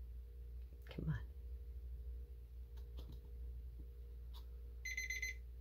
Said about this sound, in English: Oh, there goes my timer.